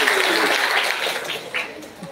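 Audience applause at a university public lecture: a dense wash of clapping that gradually thins and fades over about two seconds.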